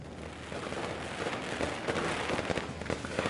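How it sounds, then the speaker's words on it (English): Firecrackers in the video game Nine Sols give a rapid, dense string of crackling pops over a hissing wash. They stay moderately loud and continuous throughout, with no talk. "Firecrackers."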